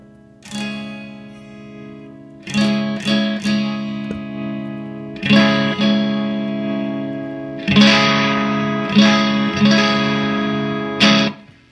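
Electric guitar through a BYOC Overdrive 2 pedal, chords strummed and left to ring, several separate hits with long sustain and a bright, slightly gritty, chiming tone.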